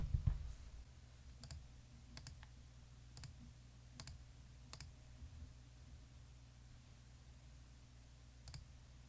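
A computer mouse clicks while working in audio mixing software, about eight or nine sharp, quiet single clicks spaced irregularly over a low steady room hum, with a brief thump at the start.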